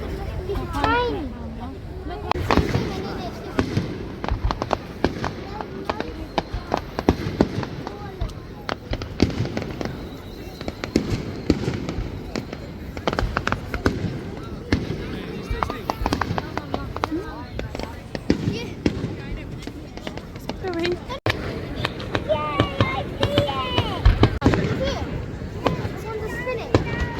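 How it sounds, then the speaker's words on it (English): Fireworks and a spinning Catherine wheel going off on Bonfire Night in Cambridge, giving a continuous crackling, popping and fizzing din with sharp bangs throughout, mixed with crowd babble and nearby voices talking. "This is the Catherine wheel."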